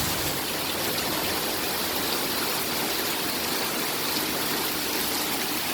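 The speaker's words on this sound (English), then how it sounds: "That's where all the water is coming from. Going right down the street." Floodwater rushes down a flooded street in a steady, loud, broadband roar like a torrent, continuous and unbroken throughout with no voices.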